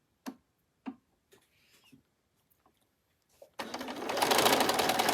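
A sewing machine stitches a seam on a unicorn-pattern bag. A few soft clicks and taps come first, then the machine starts up close and loud with a steady rapid whirring run.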